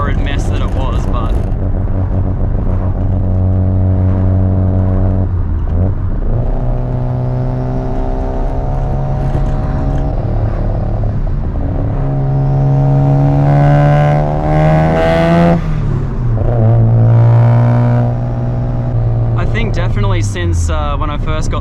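Mazda FD RX7 rotary engine revving while driving through city streets, the pitch climbing and falling through repeated rev cycles, loud and close throughout.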